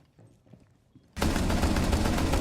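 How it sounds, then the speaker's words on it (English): A sudden burst of rapid gunfire in Rainbow Six Siege erupts after a quiet moment, loud and close, sustained automatic shots filling the rest of the clip. "Why are you shooting?"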